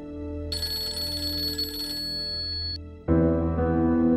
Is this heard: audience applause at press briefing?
no